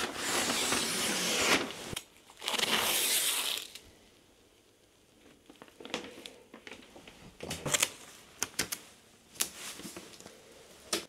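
Craft paper unrolled and taped down onto a workbench while making a template for a garden obelisk: two bursts of broad rustling crinkle, then scattered sharp tape rips and taps, close and alone.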